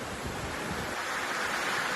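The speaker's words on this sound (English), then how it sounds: "whitecaps appeared on the sea as stormy weather intensified" Rough sea churns under strengthening storm winds as whitecaps form off the coast during an approaching typhoon, a dense continuous roar of surf and gusting wind buffeting the microphone.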